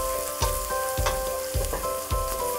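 White onions and garlic sizzle in a pan while a spoon stirs them in a few regular strokes, each with a soft knock, close up over a constant frying hiss, no talking.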